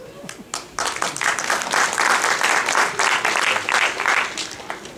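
Audience at a Tamil poetry recital breaks into applause after a short spoken line, the clapping swelling quickly into a full, steady round that stays loud before easing slightly.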